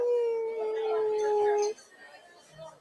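A person imitates a sad dog howl with one long, drawn-out, steady wail that cuts off abruptly, followed by faint background murmur.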